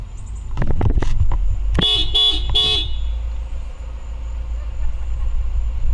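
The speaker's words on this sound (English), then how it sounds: "We got these people over here honking at us while we're trying to make a video." A car horn blares nearby from a passing vehicle in a steady series of several toots. Traffic rumble sits underneath, and a few short knocks come just before the honks.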